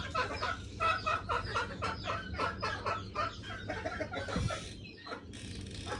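A flock of chickens on a poultry farm cluck continuously and close by, with overlapping short calls in a busy, steady chatter.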